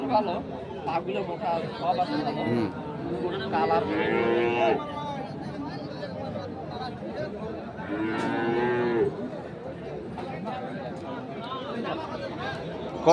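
Cattle and bulls at a rural livestock market in Dinajpur give two long, loud moos amid the murmur of buyers and sellers, with people talking close by throughout.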